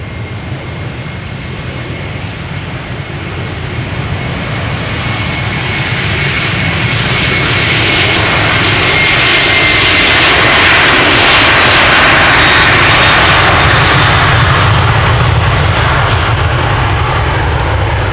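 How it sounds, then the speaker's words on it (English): A Delta Airlines Airbus A330-300 jet takes off at Amsterdam Schiphol Airport, its engine roar building steadily from a strong rumble to a loud, sustained thunder that stays near and powerful throughout. "This is Delta Airlines Flight 161 to Minneapolis, Minnesota, doing a turn and burn."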